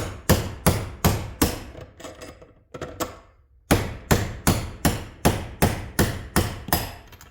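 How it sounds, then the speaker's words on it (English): Steel hammer striking a lawn mower deck spindle to knock it out during a bearing replacement: loud, sharp, evenly spaced blows, a steady run of strikes, a short pause, then another rapid series, close up with no talking. "It may only take a few whacks. It may take a bunch of whacks."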